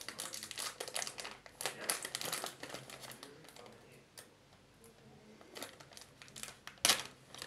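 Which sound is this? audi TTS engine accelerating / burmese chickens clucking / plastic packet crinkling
plastic packet crinkling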